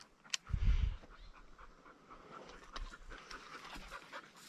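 A female hunting dog pants close by after retrieving a dove on a Chilean dove shoot, with a quick burst of heavy breaths followed by softer, intermittent panting and rustling.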